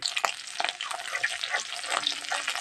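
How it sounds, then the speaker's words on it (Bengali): Ginger, cumin and green chilli frying in hot oil for an Indian potato-stuffed dish, with a bright, steady crackling sizzle and occasional spatters close up. "তেল গরম হয়ে গেছে, আদা জিরে কাঁচা লঙ্কা সব দিয়েছি।"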